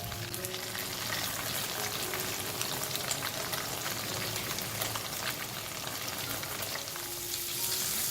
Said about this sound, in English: Fry the second batch of tofu slices.